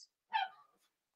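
A puppy gives one faint, brief yelp that trails off into a soft whimper in a quiet room.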